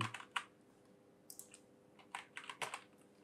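Quiet keystrokes on a computer keyboard as a name is typed into a WordPress contact form, coming in short irregular bursts of clicks with pauses between, close and soft, with no talking.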